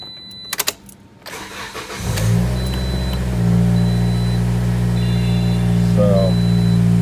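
A Toyota Corolla iM engine cranks and catches after a few clicks, then settles into a steady, loud idle that rises slightly as it revs, heard close up without talk.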